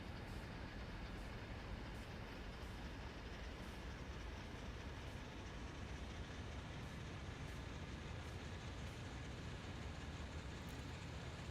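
A train rolls steadily along the track in Train Sim World 2 on the Horseshoe Curve. The rumble is constant and even, with faint regular clicks from the rails and no voices.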